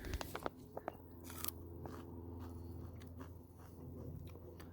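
Someone bites into and chews an old pea pod picked from a garden, with a few close crunches at first, then quiet chewing.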